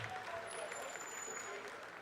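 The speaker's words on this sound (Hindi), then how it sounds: "आप तालियों के गड़गड़ाहट से सुन सकते हैं" Steady applause fills a mission control room as Chandrayaan-3 enters its vertical descent phase toward the moon, a dense continuous clatter at moderate distance with voices mixed in.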